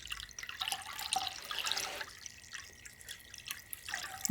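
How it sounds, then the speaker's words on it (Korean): Bottled water poured onto finely ground cooked rice, a quiet trickling and dripping stream that starts and stops over a few seconds, faint and close, with no voices. "생수를 부어주세요"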